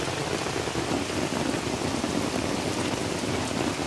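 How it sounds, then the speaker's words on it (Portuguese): Heavy rain pours steadily during a fishing trip, a dense, continuous hiss of drops drumming nearby without a break, loud and unchanging throughout. "Que chuvão."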